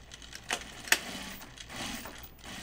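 A sewing machine runs a quarter-inch top seam through outer fabric and lining of a fabric pocket bucket, a faint, soft mechanical whir with a couple of sharp clicks near the start.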